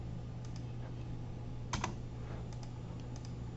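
A few computer keyboard keypresses, including a heavier Enter press, click faintly and sparsely over a steady low electrical hum, close up with no talking.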